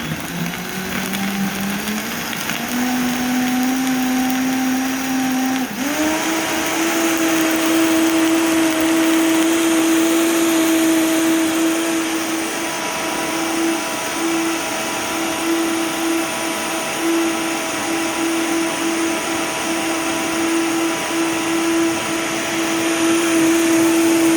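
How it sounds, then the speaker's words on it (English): Blender purees a dried chili braise for beef birria, starting low and then rising to a loud, steady high-pitched whir as the motor runs continuously for a long stretch, with no talking. "You're going to want to blend this, just absolutely puree this."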